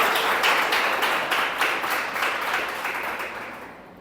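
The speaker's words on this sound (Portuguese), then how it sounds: "Dê um forte aplauso ao Senhor por isso." Congregation in a church breaking into strong, sustained applause, dense rhythmic clapping filling the room and slowly fading at the end.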